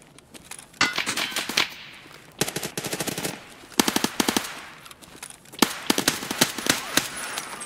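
Bursts of automatic gunfire in Escape From Tarkov: several rapid strings of sharp, loud shots separated by brief pauses, close and punchy, with no talk over them.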